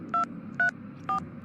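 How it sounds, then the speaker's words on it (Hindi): A phone being dialed to call someone, three short keypad tones evenly spaced over about a second, clean and moderately loud over a faint low hum. "पंडित को फोन लगाता हूँ।"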